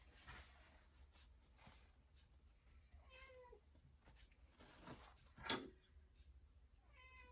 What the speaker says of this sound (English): that would be my kitty Princess Zelda meowing if you hear her